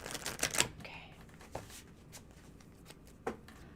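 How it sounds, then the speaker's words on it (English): Tarot cards are shuffled close up: a quick burst of crisp riffling clicks, then a few sparse single snaps of cards in a quiet room. "We're gonna shuffle and throw some cards and see what's going on here."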